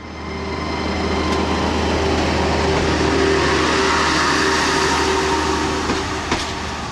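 A single-car suburban railcar rolls steadily along the tracks with a constant low rumble and wheel noise, loud and close, holding level throughout.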